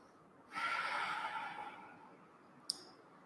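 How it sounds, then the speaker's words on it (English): During a yoga session, one long audible breath is drawn out and then eases off, close and soft, followed by a tiny click in the quiet. "Breathing here for a moment."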